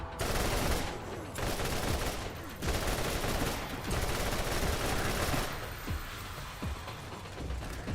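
Gunfire from the video game Borderlands: dense, continuous bursts of shots with brief gaps, loud and close, crackling over a busy game mix with no talking.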